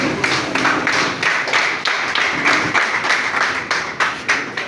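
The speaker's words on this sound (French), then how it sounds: "Sous votre ovation, s'il vous plaît" An audience in a hall applauds steadily at a community launch event in Benin, a dense wash of many hands clapping for several seconds with no talking.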